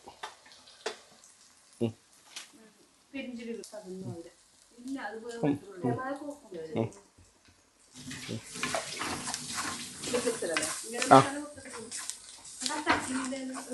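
Mustard seeds, onion, green chilli and crushed ginger fry in hot oil in a home kitchen, giving a soft crackle and then a louder, dense sizzle partway through, while a person talks over much of it.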